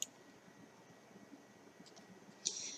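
A couple of faint, sharp computer mouse clicks in a quiet room while the desktop background setting is opened, one near the start and a brighter click near the end.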